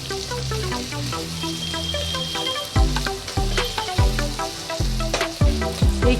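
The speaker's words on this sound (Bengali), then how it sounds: "কুমড়ো, একটু ভেজে নেবো এগুলো ভালোভাবে।" Pumpkin pieces fry in a pan, giving a soft, steady sizzle with occasional stirring scrapes, heard beneath louder melodic background music with plucked, descending notes.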